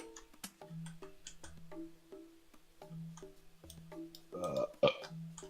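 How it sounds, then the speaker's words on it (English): A short burp sounds near the end of a stretch of faint ticking and clicking with low hum, a brief rough croak that stands out from the quiet background. "Did he just burp?"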